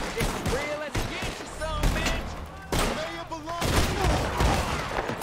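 Rapid bursts of gunfire from a new gun in Red Dead Redemption 2 Online, loud repeated shots in clusters over game background and voices.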